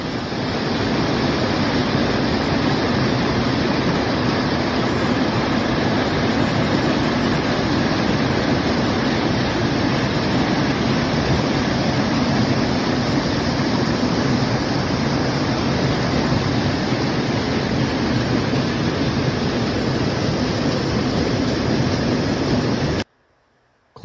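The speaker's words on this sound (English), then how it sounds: "the spring, which sounds more like a big creek or a small river" A large spring flows like a big creek or small river along the Pacific Crest Trail near Burney, California, a steady, dense rushing of water heard up close and unbroken before cutting off abruptly at the end.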